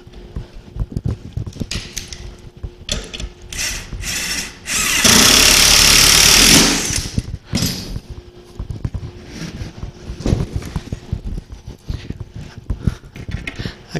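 Power drill driving screws into a thick furniture board while assembling an entertainment center, a loud sustained whir of about two seconds standing out over quieter workshop handling and knocks.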